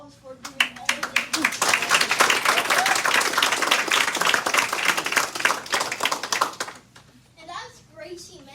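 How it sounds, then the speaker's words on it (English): Audience in a classroom applauds a student teacher, clapping building to a dense, sustained burst over several seconds before tapering off, with children's voices chattering faintly underneath. "may we give him a round of applause for doing all of this"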